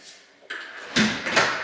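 The front door of a house with a security door opens. A soft latch click comes first, then short rustling and swishing sounds of the door moving, fairly close.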